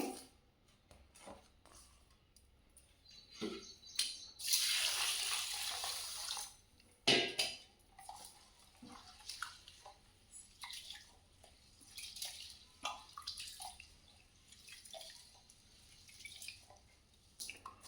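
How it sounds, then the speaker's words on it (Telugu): Rice being washed in a bowl of water: scattered drips and splashes, a long louder pour of water early on, then repeated swishing and trickling, close and quiet, with no voices. "నీళ్ళు పోసి బియ్యం మంచిగా కడుక్కోవాలి."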